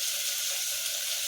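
Carrots, potatoes and radish frying in a pan, giving a dense, steady, close hiss of sizzling oil with no breaks.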